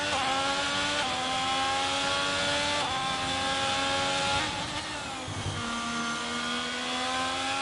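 An F1 22 race car in the video game screams flat out around the Singapore circuit, its high engine whine rising through the gears with brief dips at shifts, loud and steady with no voices.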